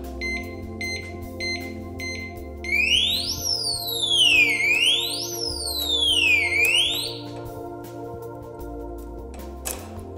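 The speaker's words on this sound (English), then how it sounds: "Great shock sensitive alarm system, reasonable price." An Abus 345/350 Trigger Alarm disc lock fitted to a brake rotor gives a few short beeps, then goes off after an impact with a loud electronic siren that sweeps up and down in repeated wails, fairly close, with no talking.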